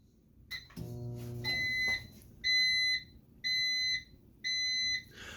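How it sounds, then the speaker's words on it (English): A Whirlpool microwave oven beeps four times, steady high-pitched tones in an even rhythm, after a brief low hum and a click. "this is what this microwave sounds like when it beeps"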